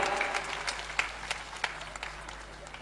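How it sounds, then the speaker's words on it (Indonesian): Audience applause after a performance by 100 dancers from Papua Barat at the inauguration of the West Papua governor's office, steady scattered clapping across a hall with a low hum underneath. "Kita berikan aplaus yang meriah."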